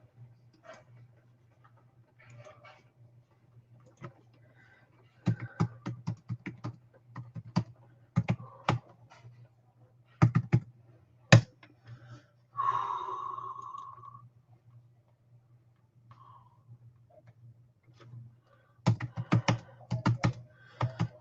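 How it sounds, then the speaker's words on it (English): Typing on a computer keyboard in a quiet room, heard as irregular bursts of close, soft key clicks separated by pauses, over a low steady hum. "why can't I type and talk at the same time?"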